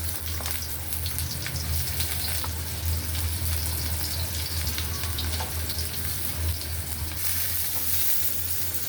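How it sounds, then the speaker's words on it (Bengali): Chopped onions fry in oil alongside fish for a fish curry, giving a loud, steady, close-up sizzle that runs unbroken throughout with no talking. "পেঁয়াজটা একটু ভাজা ভাজা হোক।"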